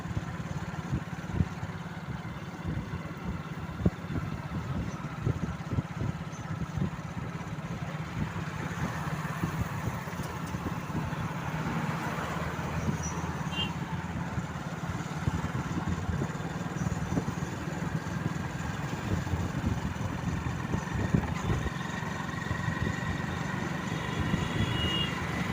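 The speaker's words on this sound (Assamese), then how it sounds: "হাইৱেৰ ওপৰত বাইক চলাই আছোঁ।" A motorcycle ridden along a highway on Barpeta Road heading toward Sarbhog, with a steady engine drone and continuous road and wind rumble throughout, no talking.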